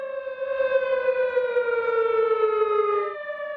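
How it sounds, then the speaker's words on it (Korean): Air raid civil defense sirens installed across Ulleungdo island wail in a loud, steady, sustained tone that drifts slightly downward in pitch before dropping off, with no voices over it. "어제 오전 8시 55분쯤 울릉 전역에 설치된 14개의 사이렌에서 2, 3분간 공습경보가 울립니다."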